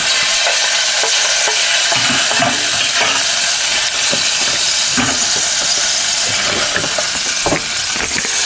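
Butter melting and sizzling in a pot for homemade macaroni and cheese, a loud constant crackling hiss with scattered pops and small stirring knocks throughout.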